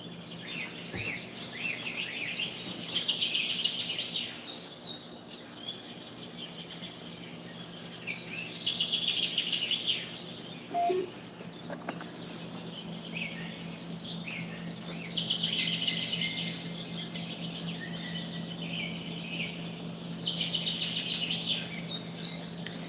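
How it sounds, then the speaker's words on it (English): Recorded birdsong played back from YouTube: faint bursts of high chirping and twittering recurring every few seconds over a low steady hum, fairly quiet and distant-sounding. "4K birds."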